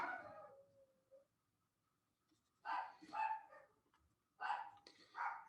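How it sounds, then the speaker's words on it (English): Dogs bark in short bursts, a trailing yelp at first, then two clusters of barks after a quiet gap, moderately loud indoors. "my dogs like to bark whenever somebody comes home."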